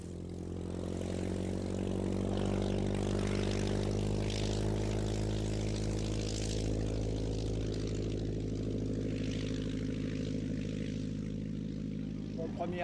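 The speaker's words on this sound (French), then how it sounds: "C'est le minuscule Bucker 133 allemand, très léger, tiré par un moteur de 160 chevaux." A small Bücker 133 German aerobatic biplane's 160-horsepower propeller engine drones steadily and loudly, its buzzing note rising slightly then holding, close by for the whole stretch, at an airshow.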